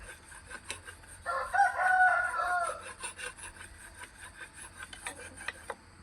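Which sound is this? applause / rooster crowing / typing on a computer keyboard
rooster crowing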